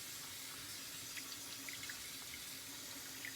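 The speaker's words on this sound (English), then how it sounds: "I'm gonna fill this up to where they're actually like sitting in water for a minute." Tap water runs into a container of sprouting lentils, a quiet steady splashing stream with small bubbling drips over a faint low hum, and no talking.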